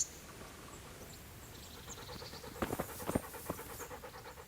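Mutt, a dog in the video game Kingdom Come Deliverance, pants in quick rhythmic breaths, close and fairly soft, over a faint background hiss.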